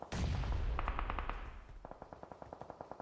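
Rapid automatic gunfire in a battle royale esports match at the 8R Battle of the Regions global event: one loud opening burst, then repeated crisp volleys of shots with echo, fairly close and steady, with no talk.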